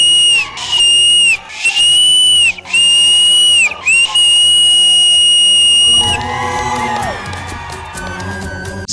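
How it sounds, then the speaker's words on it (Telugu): Loud, shrill whistle blasts repeat in long sustained bursts on a celebrity dance show stage, then give way to crowd cheering and noise. "నా దగ్గర ఉంది విజిల్ ఒకటే."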